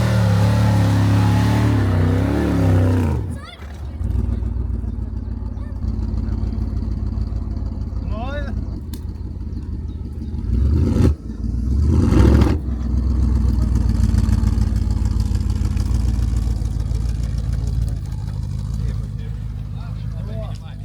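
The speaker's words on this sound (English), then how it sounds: "V8 roars again." A BMW V8 engine on an off-road trail trip fires up and revs, loud and close with rising roars and surges between quieter idling stretches, while people talk over it.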